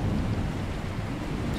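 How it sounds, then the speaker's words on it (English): Steady rain in the video game Pacify hisses continuously at a moderate level, with a low rumble underneath and no voices. "Still raining outside."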